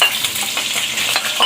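Two finely chopped onions fry in a pan for a potato and capsicum dish, giving a close, steady sizzle with bright crackles and the scrape of stirring.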